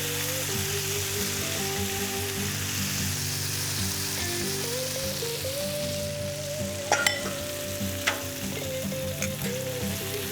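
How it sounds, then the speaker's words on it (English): Hash browns frying in bacon grease on a griddle, with a loud continuous sizzle and crackle close by, a few sharp scraping clicks of a spatula near the end. "let's grab the hash browns. Let's throw it right here in this bacon grease"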